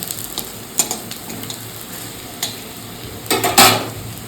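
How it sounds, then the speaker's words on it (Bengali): Thin batter of ground red lentils frying as fritters in hot oil, with a steady low sizzle and a few louder bursts of crackle and stirring clatter near the end; no talking. "মুসুর ডালটাকে বেটে আর পাতলা পাতলা করে একটু বড়া ভেজে নিচ্ছি"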